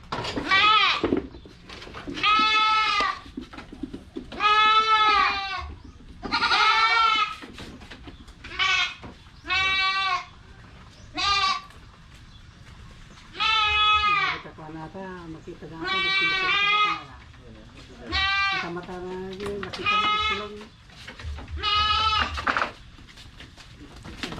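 Goats bleat loudly and close by, a long series of wavering calls, some overlapping, with short pauses between them.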